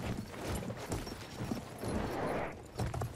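Rhythmic hoofbeats of a horse galloping in the video game Battlefield 1, a steady muffled clip-clop under low game ambience with a faint whinny-like cry near the end.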